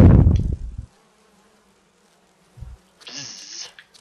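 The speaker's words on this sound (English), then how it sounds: "Bzzz. That can't be good. Bees poison me." Bees buzz in the Resident Evil video game: a short, loud insect drone lasting under a second, preceded by a few dull low thuds and otherwise quiet.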